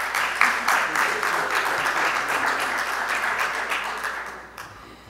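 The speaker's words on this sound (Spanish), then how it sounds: "Un fuerte aplauso, por favor" An audience at a formal legal conference on child trafficking bursts into loud, dense applause that holds steady for several seconds before tapering off at the end.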